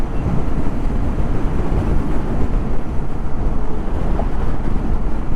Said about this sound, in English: but it's very, very windy.